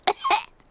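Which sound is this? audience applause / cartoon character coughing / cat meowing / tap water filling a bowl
cartoon character coughing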